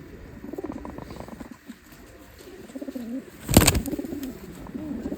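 Pilanka pigeons coo softly in a loft in repeated low throaty bursts, with light rustling and one sharp brief noise midway, no talking.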